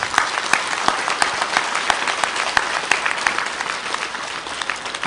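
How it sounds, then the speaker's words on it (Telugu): Audience at a volunteer gathering claps steadily and loudly, a dense wash of applause with sharp individual claps standing out throughout, with no voices over it. "వాలంటీర్స్ గట్టిగా చప్పట్లు కొడదాం మనం అందరం కలిసి"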